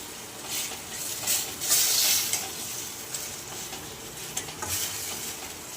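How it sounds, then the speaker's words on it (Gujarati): Methi papad shaak with turmeric sizzles softly in a pan while a spoon stirs and scrapes through it, with steady frying hiss and a few louder scraping strokes. "આ રીતે આપણે હલાવી નાખીએ."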